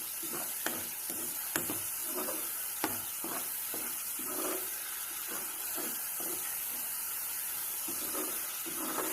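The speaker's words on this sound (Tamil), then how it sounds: "இந்த இஞ்சி பூண்டு பேஸ்ட்டை வந்து நல்லா 1 நிமிஷம் வதக்குங்க" Ginger garlic paste sautés in a pan of oil and fried onions, a continuous sizzle broken by repeated scraping stirs and knocks of a spoon against the pan.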